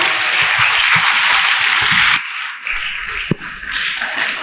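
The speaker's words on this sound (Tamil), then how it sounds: "நல்ல கைத்தட்டல் கொடுங்க" Audience at a Tamil parenting talk claps for a guest seated as chief guest, dense steady applause that thins abruptly midway into scattered claps and a few sharp taps.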